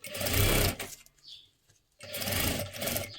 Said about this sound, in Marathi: पूर्ण बेल्टला अशाच पद्धतीने आपल्याला शिलाई देत घ्यायची आहे.